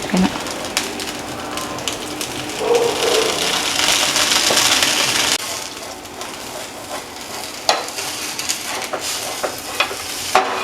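Uttapam frying in a little oil on a hot pan, a steady close sizzle that swells in the middle and then drops to a quieter crackle with a few sharp clicks of a spatula near the end.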